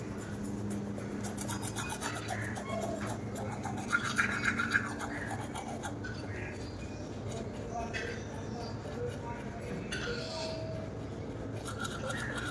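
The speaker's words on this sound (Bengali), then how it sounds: "ব্রাশটা করে নিই।" Close scrubbing of teeth with a toothbrush, a steady rasping back-and-forth rub that runs throughout with a few brighter strokes in the middle, set in a quiet home at the start of the day.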